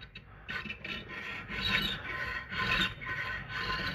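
Square-file strokes on a full-chisel saw chain cutter being converted to square grind: a steady series of rough rasping strokes at close range, each lasting about a second with short pauses between.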